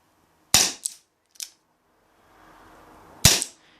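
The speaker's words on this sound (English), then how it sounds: "Going to do 3 single action shots at the bottom target." A Tanaka airsoft revolver fired single action: a few sharp, snappy cap-like shots, close and loud, separated by quiet gaps and some faint handling noise.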